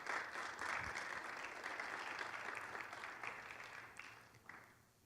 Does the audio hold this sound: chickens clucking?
no